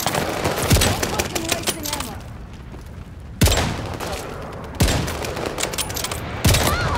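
Rifle gunfire from a first-person shooter video game: a handful of sharp single shots spaced a second or more apart, loud over constant game background noise.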